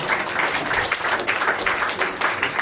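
Applause from an audience at a funeral reception after a speech, a steady patter of many hands clapping at moderate distance for a few seconds, with no talking over it.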